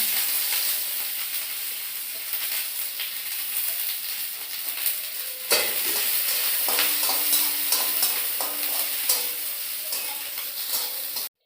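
Chopped onion frying in a pan during dal cooking, a steady bright sizzle with a sudden louder burst as the onion hits the hot oil, followed by crackling and stirring scrapes.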